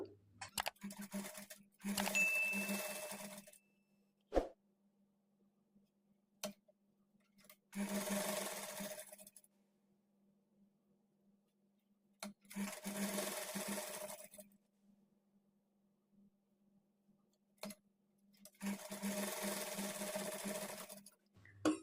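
A sewing machine stitches blouse pieces in four short bursts of close, even whirring, separated by quiet pauses with occasional clicks and handling knocks.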